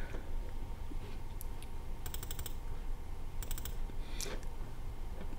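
Keystrokes on a computer keyboard while writing a T-SQL query, heard as two short bursts of rapid clicks separated by pauses, faint and fairly close over a steady background hiss.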